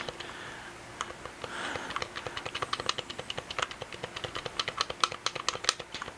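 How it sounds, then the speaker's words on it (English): Clicky buttons on a BrawlerGen gamepad are pressed in rapid, uneven bursts, a dense run of sharp close-up clicks that grows busier toward the end. "But it's clicky. I like that, as you guys can hear."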